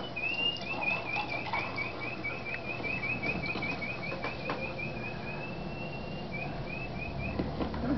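A thin, repeated whistle carries over steady outdoor background noise, a chain of quick notes that pauses briefly before a few more.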